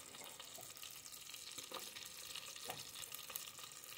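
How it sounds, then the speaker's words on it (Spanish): Julienned onion and sliced garlic sauté in butter and oil for a four-cheese pasta cream, making a soft, continuous sizzle at low volume with no talking. "Se vaya acitronando con la cebolla, la mantequilla, el aceite"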